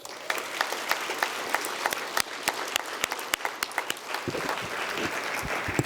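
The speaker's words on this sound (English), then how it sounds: "give yourselves a round of applause" Audience applause at a Tennessee charity hall of fame gala, a steady patter of many hands clapping with crisp individual claps standing out, moderately distant and continuing for several seconds without talk.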